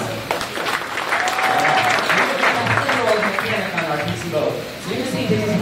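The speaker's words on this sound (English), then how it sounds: "Everybody else is just giving a round of applause." A crowd of theme park visitors at Disney Hollywood Studios gives a round of applause, a continuous wash of clapping with voices and chatter mixed throughout.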